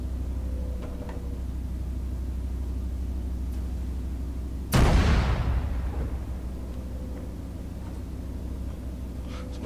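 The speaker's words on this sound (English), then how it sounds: "fire a few shots, and we'll see where they land" A Scorcher artillery piece in a video game fires a single loud, sharp boom midway through a steady background rumble, the report trailing off into the low hum.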